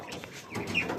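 Chickens, a pair of pare hens at a farm with ducks and ducklings, cluck softly and intermittently at close range over a low farmyard background.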